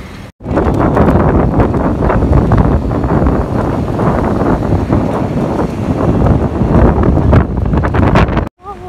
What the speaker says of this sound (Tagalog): Hala, ang lakas ng hangin na yan.